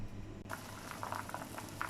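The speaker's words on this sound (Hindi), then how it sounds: "पानी में उबाल आने लग गया" Water coming to a boil in a cooking pot on a kitchen stove for vegetable rice, a soft steady bubbling and simmering hiss heard up close with small pops, no talking.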